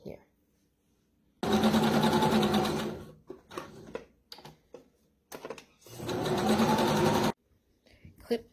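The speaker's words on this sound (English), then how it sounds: "Take the other two fly pieces and sew them together, right sides to right sides." A sewing machine stitches two fabric fly pieces together, right sides facing, in two steady, close whirring runs of a few seconds each, with quieter handling noises and brief pauses between them.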